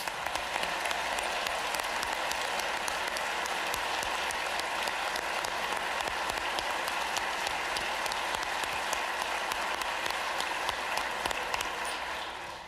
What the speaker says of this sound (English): clap for Haley, there you go